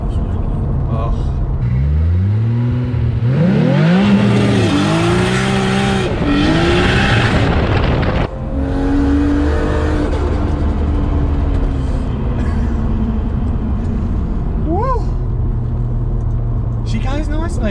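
A turbocharged straight-six engine in a 736bhp R33 GT-R revs up and down in strong, rising and falling sweeps, loud and close, with people talking over it and a brief drop near the middle.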